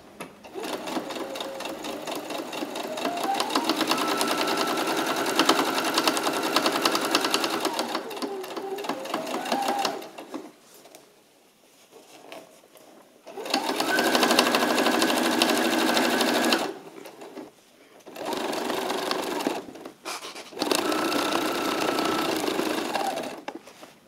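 A sewing machine stitches a skirt seam 1 cm from the edges in several steady runs of fast, even whirring, each lasting a few seconds and separated by brief pauses.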